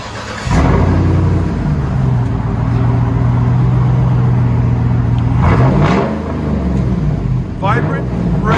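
2009 Cadillac Escalade with a 6.2L V8 and dual exhaust through Vibrant race mufflers, starting up and idling with a loud, deep rumble, then revving sharply a couple of times near the end.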